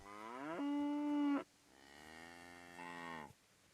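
Cows mooing in the video game Kingdom Come: Deliverance: two long, loud, close moos in a row, the first steady and droning, the second wavering, with no talking.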